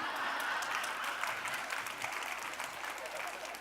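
Audience at a talk applauding in a sustained, even round of clapping that holds steady throughout, with a crowd murmur under it.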